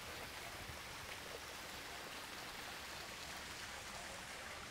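Water flows steadily down a small artificial stream on a mini golf course, a continuous broadband wash that stays even and fairly close for the whole stretch, with no voices over it.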